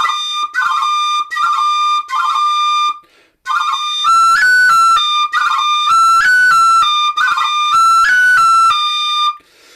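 Tin whistle played solo in a lively traditional Irish style, with bright clear notes broken by quick finger-drummed cran ornaments, a brief pause midway, then a second phrase repeating the ornamented figure.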